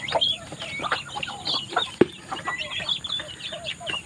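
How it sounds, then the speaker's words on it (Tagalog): Several hens cluck and chatter nearby in a busy, overlapping flurry, with one sharp knock partway through. "may inahing manok rin dito sa loob"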